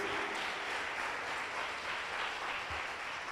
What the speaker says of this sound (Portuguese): Aplausos, Senhor Jesus, amém.